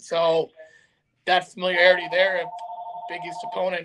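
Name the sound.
telephone ringing in the background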